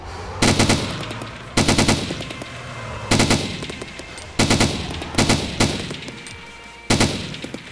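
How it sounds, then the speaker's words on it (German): Bursts of automatic gunfire from the video game DayZ, six loud rapid-fire volleys spaced about a second apart with short gaps of quiet between them, no talk. "Ich hab deine Schüsse gehört."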